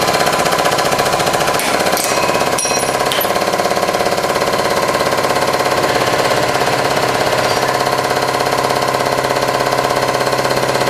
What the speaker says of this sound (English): There, we have a second piston to crush.